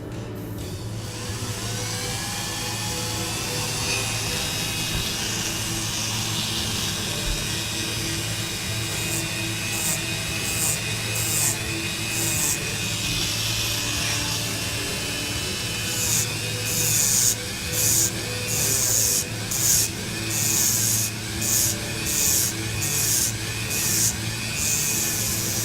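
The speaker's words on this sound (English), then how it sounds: "back to the Dremel noises" A Dremel rotary tool grinds and rubs against a dragon sword blade in a steady continuous whine, with rhythmic bursts of harsher rasping toward the end.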